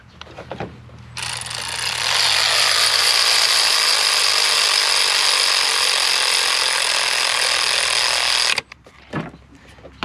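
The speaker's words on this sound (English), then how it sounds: "You want to go ahead and torque those down to 18 foot-pounds." A power ratchet drives spark plugs down into an engine during a quick plug change, giving one steady, loud whirring run of about seven seconds with a short clatter before and after.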